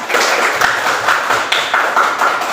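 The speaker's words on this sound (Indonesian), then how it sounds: "Aplaus buat Sarah" A classroom claps for a student named Sarah in a short, loud burst of applause from several people nearby. The clapping is steady and close, with no talking over it.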